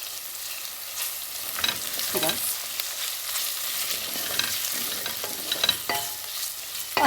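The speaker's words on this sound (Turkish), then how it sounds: "soğanımı ilave ediyorum ve kavurmaya devam ediyorum" Onions and tomato-pepper paste sautéing in a pan for pressure-cooked dried bean stew, a bright continuous sizzle with repeated spatula scrapes and stirs, close up and without speech.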